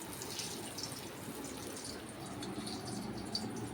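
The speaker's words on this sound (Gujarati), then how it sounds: "ત્યારબાદ હવે એને આપણે તેલમાં નાખીશું." Bhajiya fritters sizzle in hot oil, a steady dense crackling hiss that holds evenly throughout, close and moderately loud with no talk.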